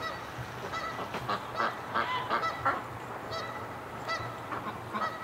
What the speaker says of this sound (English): we got Canada geese all over the swamp